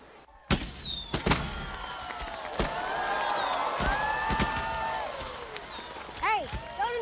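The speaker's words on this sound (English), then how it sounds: "please enjoy tonight's Cincinnati's 45th Riverfest fireworks" Fireworks at Cincinnati's 45th Riverfest: several sharp booming bursts and rising whistling shells cut through a continuous outdoor crowd murmur.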